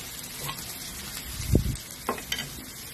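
Ginger added to a hot pan gives a modest sizzle with a brief stirring scrape in the middle and a couple of lighter clinks after it.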